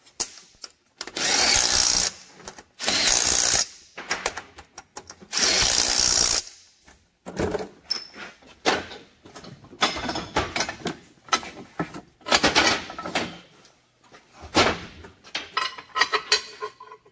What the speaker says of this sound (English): Use the automated grease gun.